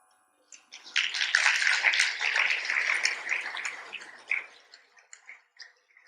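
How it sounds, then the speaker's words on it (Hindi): Audience in a hall breaks into applause, a dense burst of clapping that swells quickly, holds for a few seconds and then thins into scattered claps before fading out. "ताली किस बात के लिए थी?"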